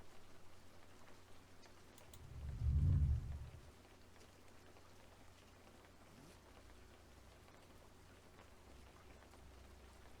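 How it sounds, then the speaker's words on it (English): Faint, steady rain patters in woods at a camp in the early morning, with a soft low rumble swelling briefly early on; no voices. "A little rainy, but nothing serious."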